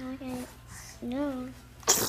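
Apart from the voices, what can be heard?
sneeze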